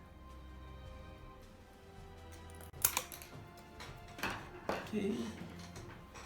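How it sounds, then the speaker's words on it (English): Cheap $2 shop scissors snipping through invisible grille wire, a few sharp metallic clicks and snaps close up, with a brief spoken word before the cuts. "First, I will try to cut the invisible grille wire."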